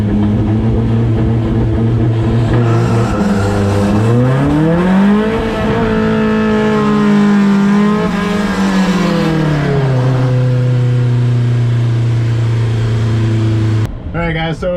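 A car engine revs loudly and steadily for an eighth-mile street drag race, its pitch rising, holding high and then falling back to a droning tone, heard close up from inside with a voice speaking over it.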